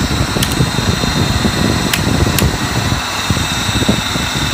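A modified electric motor idles with a steady, loud whirring hum and a few sharp ticks near the start.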